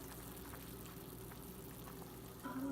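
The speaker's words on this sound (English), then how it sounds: "Here's our matzo balls boiling away." Matzo balls boil in a pot of water, giving a faint, steady bubbling simmer throughout with a slightly louder burst near the end and no talk.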